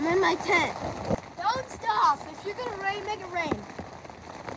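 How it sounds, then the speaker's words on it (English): Rain patters on a tent during a Fourth of July storm, a steady soft drumming heard close by beneath a person talking. "it's raining"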